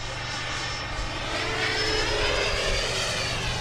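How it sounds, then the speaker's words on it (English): A Banana Hobby HSD Super Viper RC jet makes a fast, full-throttle pass down the runway, its turbine a loud continuous whine that swells and shifts as it flies by, with no speech. "Bring it down the runway here for a fast pass. Full throttle."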